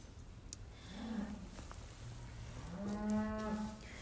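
Cows and calves on a farm moo in two long, low, drawn-out calls, near and fairly loud, over a quiet barn background with a faint click and no talking.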